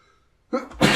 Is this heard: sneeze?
yes